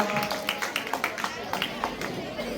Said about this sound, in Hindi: आप ये जोरदार तालियां भी बजनी चाहिए